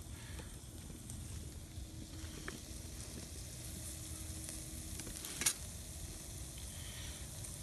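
Food sautéing in a Hungarian army mess kit over lowered heat gives a steady, quiet sizzle throughout, with faint stirring scrapes and one brief sharp clink near the end.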